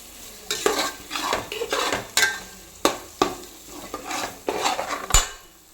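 A spoon scrapes and clinks around a pan as lemon juice is stirred into egg pulav masala, with rhythmic stirring strokes over a light sizzle, close and clear and without any talking.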